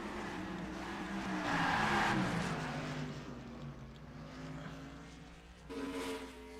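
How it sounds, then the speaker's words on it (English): A race car in a sim racing game slams hard into the wall at Pocono during a sportsman series race, tire squeal and engine roar swelling then fading, with a second sharp burst of noise near the end. "That was a hard hit into the wall."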